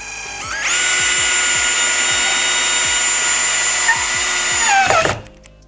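A Procraft PI18BL cordless drill driver runs in drill mode at torque setting 1, giving a steady high motor whine with a faint periodic clicking beneath it for about four seconds before spinning down, loud and close, with no talking.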